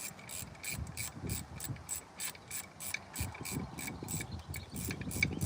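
A seized bolt on a 2010 Honda Element being worked loose with a ratchet, giving a steady run of close, rhythmic clicking that continues throughout.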